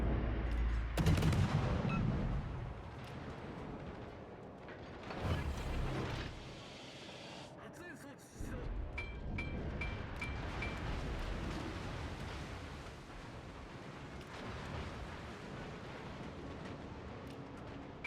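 Naval guns boom and shells strike in World of Warships during a match featuring the destroyer Shimakaze and an enemy Gearing, heavy low blasts and rumbling impacts arriving in irregular bursts over continuous battle noise.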